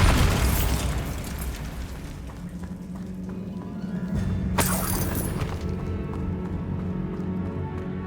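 A Bombarda blast spell from Hogwarts Legacy bursts loudly near the start, followed by a sharp crack midway, over a dense rumbling game soundscape with no voice.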